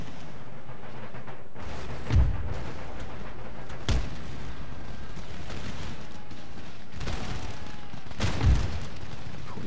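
Musket volleys fire in the video game Empire: Total War, several deep booming rippling salvos spaced a couple of seconds apart over a continuous battlefield rumble.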